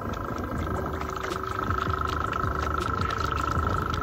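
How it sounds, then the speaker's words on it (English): A swamp runner boat driven by an electric motor, with the motor wired to spin backwards, runs with a steady whine amid wind and water noise, moderately loud and continuous. "I've just discovered that the motor is running backwards, but it seems to be working out pretty sweet."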